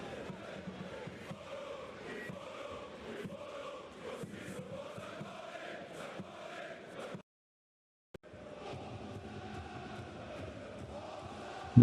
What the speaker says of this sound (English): Just turn that crowd noise down a little bit while it's half time.